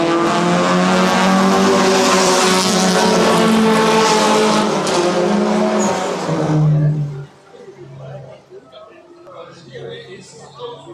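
Race cars at the JRDC Carnival of Speed circuit meet roar loudly into a corner with droning, layered engine notes under a commentator's voice, then the engines fade away after about seven seconds.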